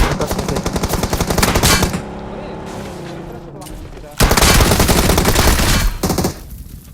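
Rapid automatic gunfire in a video game, loud bursts at the start and again in a dense stretch after a quieter gap, with a player talking over parts of it.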